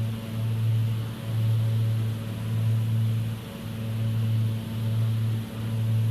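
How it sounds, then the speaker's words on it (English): Steady drone of a Piper Seneca twin piston engine in the X-Plane 12 flight simulator, a constant loud hum with a low pulsing beat that rises and falls slightly, heard alone without talk. "Let's listen to some engine sound."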